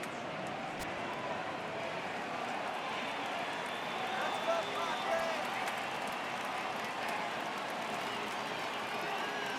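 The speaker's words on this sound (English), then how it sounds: "Crowd gets up for the 3-2" Stadium crowd in MLB The Show 18 swelling at a full count, a broad steady roar that builds slightly in the middle, with a commentator talking over it.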